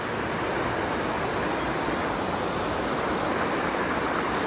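Mountain river water rushing down near Puerto Vallarta, a loud, continuous broadband roar heard close up with no voices.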